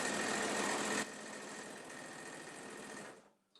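A sewing machine runs continuously along the side seams of a full-size top-handle tote bag, louder for the first second, then steadier and softer before stopping abruptly.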